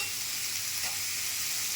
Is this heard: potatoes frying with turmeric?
yes